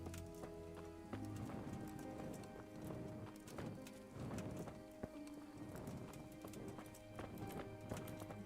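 Rhythmic clip-clop of video game horse hooves trotting at a steady pace, fairly close, with a soft background hum.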